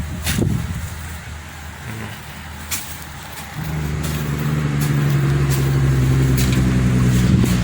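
A vehicle approaches and rumbles past nearby, its engine noise rising to a steady drone, with scattered clicks and no voices.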